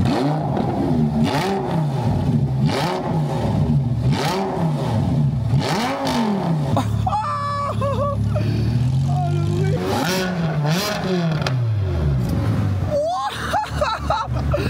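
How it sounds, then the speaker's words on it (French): A Ferrari Challenge Stradale on its stock exhaust revs repeatedly, loud rising and falling engine blips close by, with excited voices talking over and between the revs. "Ça, c'est l'échappement d'origine sur la Challenge Stradale"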